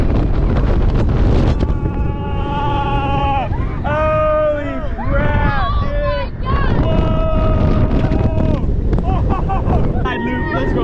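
Front-seat ride on the Full Throttle roller coaster at Six Flags Magic Mountain: loud, constant wind rush roars past the microphone while riders scream and shout throughout.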